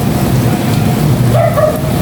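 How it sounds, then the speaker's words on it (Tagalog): Rain pours onto a street outside a storefront, a continuous hiss with low rumble, while a dog barks briefly in the background near the end. "Tignan niyo yung ulan."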